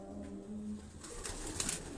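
Pigeons coo in a low, rolling murmur, a few birds calling close by with overlapping phrases and a faint flutter of movement late on.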